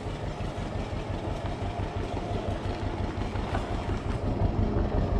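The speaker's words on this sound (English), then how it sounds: "Tractor's chugging along there." Tractor engine chugging steadily at close range while towing a rescued 1973 Opel GT, its low rumble continuous and loud throughout with a faint mechanical rattle and no talking.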